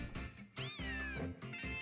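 A Litten, the fire-cat Pokémon in Pokémon Ultra Moon, lets out a loud, close meow that rises and falls in pitch, with a second, shorter cry near the end and no talking.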